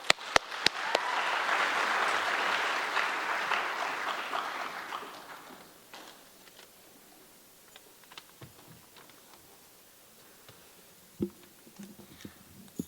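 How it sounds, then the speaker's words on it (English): Audience applause after a solo classical dance debut performance, a swell of clapping from a seated crowd that fades after a few seconds into scattered quiet rustles and taps. "So please join me in applauding her"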